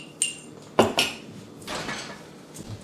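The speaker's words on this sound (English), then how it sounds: "Mix the salt and the flour." All-purpose flour and a teaspoon of salt are stirred together in a big mixing bowl, giving a few close, bright clinks and knocks of a utensil against the bowl with soft scraping between them.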